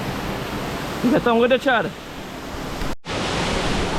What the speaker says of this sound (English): Look behind of me, you see that fall eh?